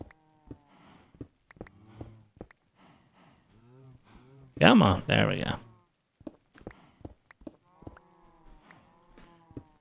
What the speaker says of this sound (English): Them crazy cows.